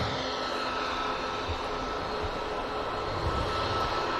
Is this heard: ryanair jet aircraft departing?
yes